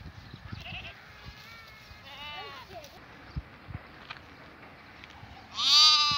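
Goats bleat outdoors in a mountain pasture, a few wavering calls at moderate distance over a quiet background with scattered knocks, then one loud close bleat at the end.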